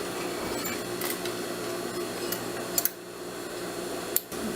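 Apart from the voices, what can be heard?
sewing machine stitching a trouser hem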